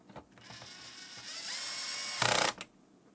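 A power screwdriver driving screws back into an HME Wireless IQ base station whirs up in pitch for a couple of seconds, then ends with a short rapid ratcheting clutch burst before stopping.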